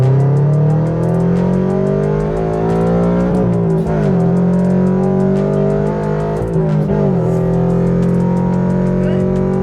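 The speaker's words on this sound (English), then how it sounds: "Let's rev it out." The engine of a 2022 Subaru BRZ revs loudly and continuously, its pitch climbing and dropping in two clear swells over a sustained, close drone.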